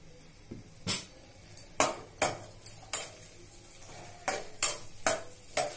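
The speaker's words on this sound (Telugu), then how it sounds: "ఒక రెండు స్పూన్ల ఆయిల్ అండి, గార్లిక్, ఆనియన్స్, గ్రీన్ చిల్లీ అండి వేస్తాం" Garlic, onions and green chilli frying in a little oil for vegetable pasta, with a soft sizzle under a dozen sharp, irregular scrapes and knocks of a spoon stirring the pan.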